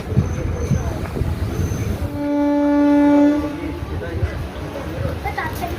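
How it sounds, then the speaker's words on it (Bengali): The Digha Asansol Express sounds a long steady horn as it arrives at Kanthi station, loud and close, with rumbling train noise and voices around it. "আমাদের ট্রেন পৌঁছে গেছে কাঁথি"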